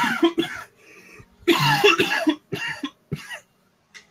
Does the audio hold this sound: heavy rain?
no